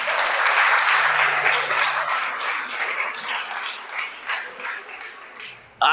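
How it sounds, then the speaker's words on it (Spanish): A congregation at a Sabbath church service gives a round of applause to the Creator, dense clapping that is loudest at first and slowly thins and fades, ending with a sudden loud bump. "Un aplauso al Creador"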